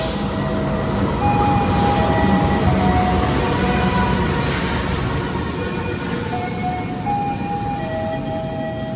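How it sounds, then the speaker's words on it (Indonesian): The Malabar train from Malang rolls in at Banjar station with a loud, steady rumble of wheels on rails. Faint squeals and tonal whines rise and fall over the rumble throughout. "Ada kereta api Malabar pagi dari Malang tujuan Bandung."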